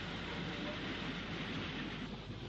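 An LMS Black 5 steam locomotive hauls a stopping passenger train on the Trent Valley main line at Rugeley, heard as a steady, broad rumble of running train noise with no clear beats, constant in level throughout.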